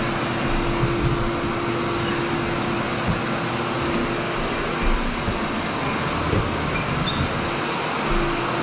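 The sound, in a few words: homemade shop vac dust extractor running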